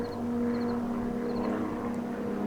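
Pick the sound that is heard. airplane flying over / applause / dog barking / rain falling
airplane flying over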